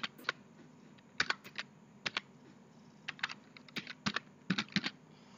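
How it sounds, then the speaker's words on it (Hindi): Fingers type on a computer keyboard while data is entered into a spreadsheet, producing irregular bursts of crisp key clicks, some single taps and some quick clusters, close and clear over a soft background hum. "इसलिए हम दोनों लिस्ट टाइप कर ले रहे हैं।"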